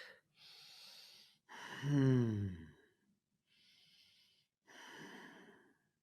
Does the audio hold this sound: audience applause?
no